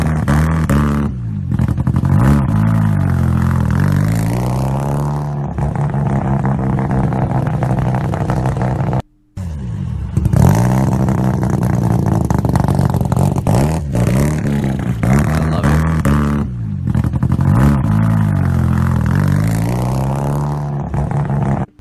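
A loud Mazda RX-7 FD rotary engine revs repeatedly, pitch sweeping up and down in aggressive bursts with a raspy, buzzing exhaust tone, cut by a brief silence midway.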